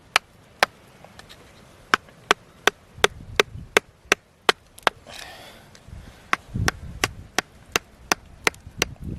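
A hand tool chips at very hard rock in an underground gold mine tunnel, striking in sharp, regular, close blows about once every half second, with faint rustling between hits.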